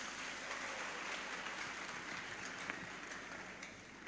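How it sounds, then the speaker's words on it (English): Faint, steady applause from an audience at a youth empowerment summit, honoring the chairperson, a continuous wash of many hands clapping at a distance. "She deserves another round of applause"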